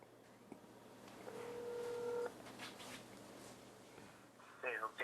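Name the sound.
telephone dialing to connect a call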